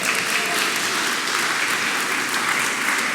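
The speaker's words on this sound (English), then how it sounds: "Definitely worthy of an applause." Steady applause from the audience at an anniversary event, a continuous wash of many hands clapping at moderate distance with no talk over it.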